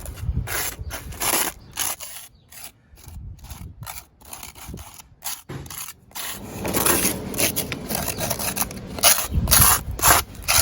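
Limestone screenings being scraped and pushed into a hole in an interlock paver driveway, repeated gritty rasping strokes in bursts with short gaps, close and fairly loud, no talking.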